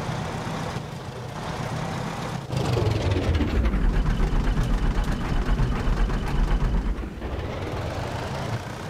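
A tractor engine in the video game DayZ runs loud and close, a rough low chugging that lasts throughout and swells as it revs partway through, with no voices.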